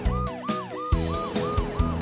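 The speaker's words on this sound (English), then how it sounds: "Here comes Amber the ambulance." A cartoon ambulance siren wails in a steady repeating rising-and-falling pattern, loud and close, with rhythmic thumps beneath it and no talking.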